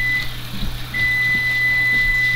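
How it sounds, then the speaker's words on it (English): A kitchen oven timer beeps, sounding a thin, steady high-pitched electronic tone that starts briefly, pauses, then holds on through the rest of the moment over faint room hum. "Whoop, there goes my oven, my timer."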